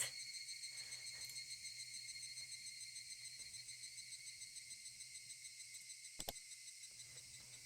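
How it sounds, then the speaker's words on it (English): Dense, continuous high-pitched insect droning, like cicadas buzzing steadily in the background, with a faint pulsing rhythm and one brief sharp click. "Curse cicadas, you can hear them?"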